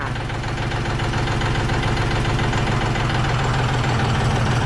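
A 40 horsepower engine, likely a tractor, runs steadily at close range with a loud low rumble and rhythmic knocking while third gear is engaged, no voices heard.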